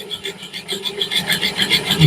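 A drill bores into a block of wood for a whiskey smoker, giving a close, rhythmic grinding rasp that pulses several times per second with rising intensity.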